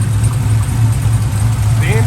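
A Pontiac Trans Am WS6 idles with a steady, loud low hum, and a dry-rotted belt adds a short squeaky chirp near the end.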